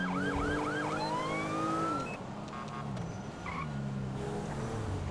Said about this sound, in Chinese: 这警笛的声音怎么也不一样？